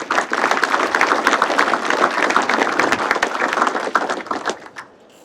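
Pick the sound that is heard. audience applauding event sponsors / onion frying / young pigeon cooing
audience applauding event sponsors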